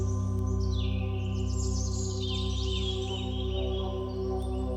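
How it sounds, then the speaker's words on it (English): Bird chirps and trills in a 432 Hz root chakra sound healing track, with light calls flitting over sustained drones and bowl-like tones, moderately loud and unhurried. "The birds are in general a bit loud"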